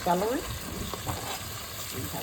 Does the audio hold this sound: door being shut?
no